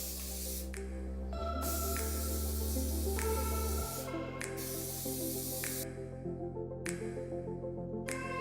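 Spray gun laying the first coat of paint on a GMC square-body truck tailgate, a continuous hiss of spray with a few shifts in pitch and level as it moves, close and steady, with no talk.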